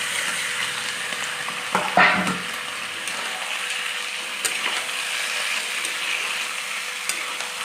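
Marinated yogurt chicken fries in a wok with a continuous bright sizzle, punctuated by a few sharp scrapes and knocks of stirring, loud and close with no talking.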